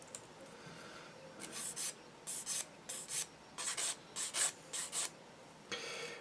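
Short rasping file strokes scrape the seam lines of a plastic Tamiya Calsonic Skyline model kit in quick irregular bursts, about a dozen scratches, close and fairly loud against a quiet background.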